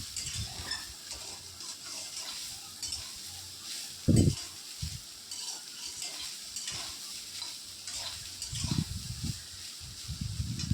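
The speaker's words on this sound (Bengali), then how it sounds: "তো এই যে কড়াই তেল দিয়ে দিয়েছি, আর সোয়াবিনটা একটু ভেজে নেব, লাল করে ভেজে নেব।" Soybean pieces fry in hot oil in a wok with a steady sizzle, broken by a sharp stirring scrape and a few more clattering stirs near the end.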